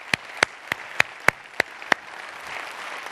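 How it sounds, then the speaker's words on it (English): At a leadership conference closing, only a handful of people clap for the sponsors: about seven sharp, separate claps in an even rhythm, then a faint room murmur. "Let's have a round of applause for all of those sponsors"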